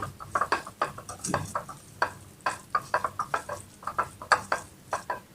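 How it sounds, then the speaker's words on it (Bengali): Cooked rice dressed with mustard oil is mixed and stirred by hand in a metal bowl, a steady run of soft clinks, scrapes and squelchy taps, close and fairly quiet with no talk. "সরিষার তেল দেওয়ার পর আমি আবার ভালো করে নেড়ে চেড়ে নিচ্ছি ভাতটা"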